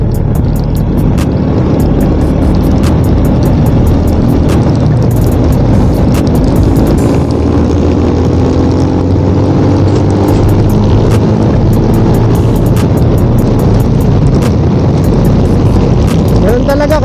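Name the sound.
big motorcycle engine running at high RPM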